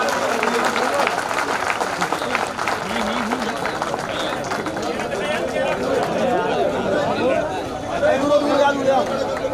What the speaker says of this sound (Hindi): जोरदार तालियों से भाई साहब का स्वागत